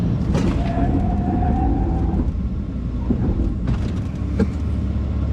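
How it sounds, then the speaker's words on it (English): A car with a big brake kit stopping hard during a braking test, a loud continuous rumble of road and wind noise with a rising tone and brief squeal-like streaks, heard from inside the cabin. "I don't think you're supposed to brake this hard"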